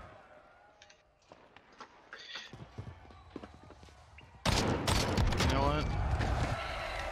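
Video game gunfire erupts in scattered thumps and shots, growing into a dense, loud burst of firing in the second half, with voices talking over the action.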